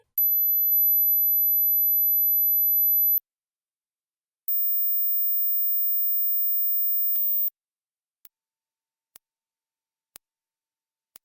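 Two steady, pure high-pitched test tones from a hearing test, the second noticeably higher than the first, each held for about three seconds, followed by a few faint isolated ticks in near silence.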